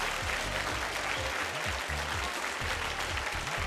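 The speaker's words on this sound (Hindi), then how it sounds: "आपके साथ भरपूर तालियों में हम उनका अभिनंदन करते हैं" A studio audience at an Indian television game show claps for jury members, sustained dense applause filling the space for several seconds, with a low musical hum beneath the clapping.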